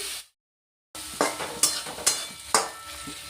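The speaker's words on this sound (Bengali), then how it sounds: "চিংড়ি মাছটাও দিয়ে দিচ্ছি। এবার নেড়ে দিচ্ছি।" Prawns frying with ridge gourd and coconut in a pan, stirred with a utensil; a steady sizzle runs under four or five sharp scraping strokes that come at a regular pace, after a brief silent gap at the start.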